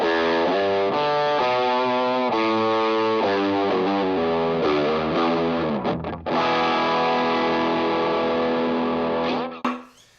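An electric guitar through an SD1 overdrive pedal plays sustained chords and melodic lines with a gritty, crunchy tone, ending with a brief muted scrape.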